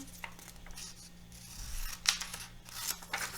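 Scissors snip through paper setting cards, giving a few soft, close crisp cuts and rustles, quiet and alone with no talking.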